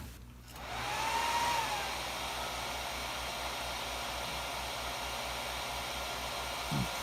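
Server system fans spin up loud at power-on with the default fan profile, a steady broadband rushing roar that swells after a brief quiet start and holds constant, with a faint rising whine early on.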